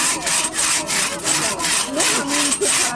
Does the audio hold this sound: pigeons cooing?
no